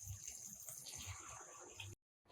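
Water from a glass poured into a pan of tomato upma base, a steady close splashing pour lasting nearly two seconds before cutting off to silence.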